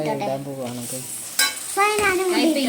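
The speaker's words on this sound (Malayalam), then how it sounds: "ഇത് കുറച്ച് ഇളക്കി സെറ്റായി കഴിയുമ്പോഴുണ്ട് ഇതിന്റെ സൗണ്ട് കണ്ടിട്ടുണ്ടോ" Soya chunks frying and being stirred in a pan, a steady sizzle with scraping that swells louder toward the end while a voice talks over it.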